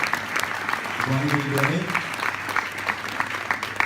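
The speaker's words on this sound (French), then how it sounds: "on peut les applaudir d'être encore présents ce soir" An audience at a short-film evening applauds, a steady mid-level patter of clapping with distinct individual claps throughout, while a voice speaks briefly over it.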